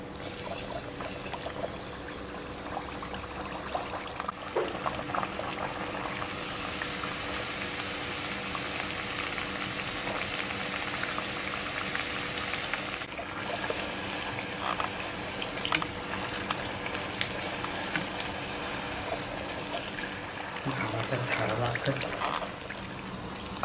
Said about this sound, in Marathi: आणि हा मी आता सोडवून आपल्या तेलात सोडणार आहे.